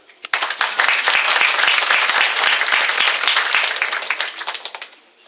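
A crowd at an academic year inauguration of a University of the Third Age in Ostrów bursts into applause, sustained dense clapping from many hands that tapers off into a few scattered claps.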